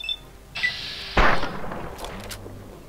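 Gunshot in the video game Fallout 3: a sharp single blast with a ringing tail, preceded by a brief metallic tone, moderately loud over quiet game ambience.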